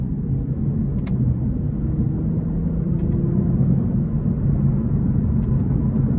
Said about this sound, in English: I want to put it into sport mode now and use these paddle shifters. So the shifts are relatively quick.